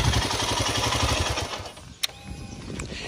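A Royal Enfield Himalayan motorcycle engine runs with a steady, chugging idle, then cuts off with a click and falls quiet, leaving a faint hum.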